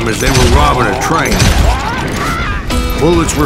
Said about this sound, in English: Bullets were flying at me from every which way.